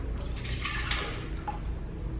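A soft splash of milk pouring into a blender, brief and close, over a low background hum.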